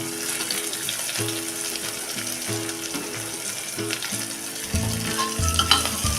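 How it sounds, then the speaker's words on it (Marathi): Cauliflower sautés with onion in a pan, a close, steady frying sizzle with a faint watery edge and soft stirring knocks, turning a little louder near the end. "फ्लावर आपण कांद्याबरोबर छान परतून घेऊया"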